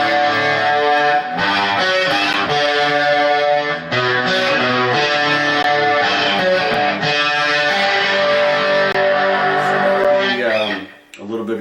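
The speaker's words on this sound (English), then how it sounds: "you could go with distortion and chorus, and you got like a Metallica sound." Heavily distorted electric guitar with a shimmering chorus effect, playing loud sustained chords and notes for several seconds before cutting off.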